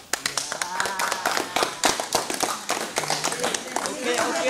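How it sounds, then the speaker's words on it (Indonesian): An audience at a school battery-for-welding presentation breaks into a burst of applause, lively overlapping claps with a few voices calling out over them. "Berikan aplaus dulu"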